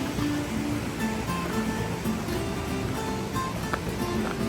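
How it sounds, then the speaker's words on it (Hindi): Water tumbles down a waterfall in Switzerland, giving a steady, continuous rushing hiss heard from nearby with no clear breaks. "ये है ऊपर से आ रहा है पानी।"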